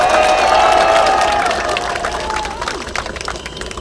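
A crowd at a People Power Party campaign rally outside Balsan Station in Gangseo gives dense, steady applause mixed with cheering. It is loud and sustained, then eases slightly toward the end.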